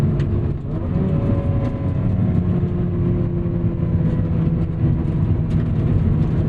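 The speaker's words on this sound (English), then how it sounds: "And the sound, he's taking it up another level." A modified Mazda NC Miata runs with a deep, steady engine and exhaust drone, a continuous low rumble heard close up inside the car with no talk over it.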